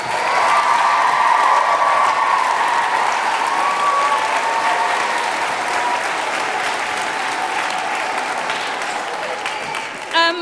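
Applause for a composer fills a concert hall at Snape Maltings after a children's big sing, a long, steady roar of many hands clapping that fades slightly toward the end.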